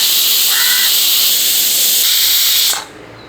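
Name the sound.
pressure cooker whistle while cooking beef curry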